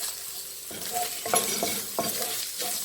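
Chilies and white shallots are stirred as they fry in a pan, a steady close sizzle broken by repeated scraping strokes of the spatula, with no talk.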